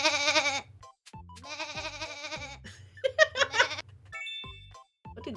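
A person imitates a goat's bleat with a series of loud, quavering, strained cries that break into giggly vocal sounds toward the end, with no background noise.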